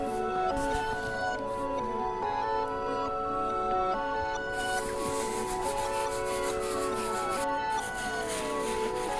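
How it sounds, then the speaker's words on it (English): A soft bristle brush scrubs melted candle wax and grime off an Air Jordan 13 sneaker, making a steady, faint rubbing and scratching sound under background music. "The first brush we're gonna be using is our Soft Bristle Brush, so we can start melting all of this candle wax off the shoe"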